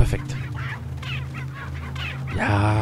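Chickens cluck in the Resident Evil 4 video game, a short burst of close, busy fowl calls over a steady game hum, with a brighter squawk near the end.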